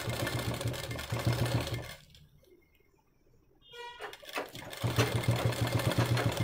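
A sewing machine stitching piping onto a blouse runs in a fast steady whir, pauses for about two seconds, then starts up again at full speed, close and clear.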